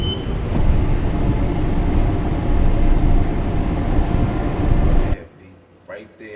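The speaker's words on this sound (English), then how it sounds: "Train is about to move." A train starting to move after its doors close, a loud rumbling, rising rail and motor noise lasting about five seconds before dropping off abruptly, followed by quiet talk.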